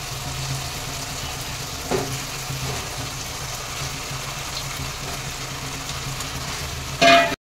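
Chicken pieces hit cooked-down masala in a hot pan for dhaba-style curry, producing a steady close sizzle and frying hiss with a brief louder clatter near the end, and no speech.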